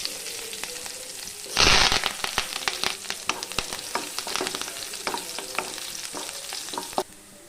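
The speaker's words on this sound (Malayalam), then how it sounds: "ഉള്ളി, കറിവേപ്പില എന്നിവ ഇട്ട് കൊടുക്കാം." Dried red chillies, shallots and curry leaves are dropped into hot oil with popped mustard seeds for a chundanga thoran, giving a loud burst of sizzling that settles into steady close crackling and spitting.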